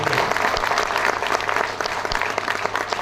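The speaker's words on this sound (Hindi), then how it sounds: "एक बार जोरदार तालियां बजाइए।" Applause from a seminar audience at a hotel meeting, a dense, steady wash of many hands clapping throughout, loud and continuous.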